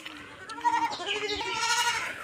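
Black Bengal goats bleating close by, a couple of wavering, nasal cries over a quiet background.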